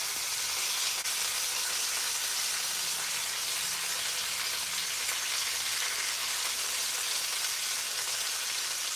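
Chicken thighs sear in a hot pan, a loud, steady broadband sizzle that crackles evenly and close throughout with no voices.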